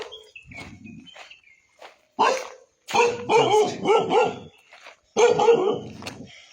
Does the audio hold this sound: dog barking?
yes